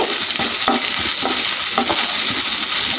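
Soya chunks stir-fried with capsicum and a sprig of curry leaves until well roasted make a loud, continuous sizzle, broken by repeated scrapes and stirring knocks of a spoon in the pan.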